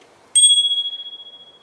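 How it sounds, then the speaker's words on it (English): A single bright ding from the handlebar bell on an Ariel Rider X Class 48V e-bike, struck once, then ringing out clearly and decaying slowly over more than a second with no talk. "as well as a bell that it comes with"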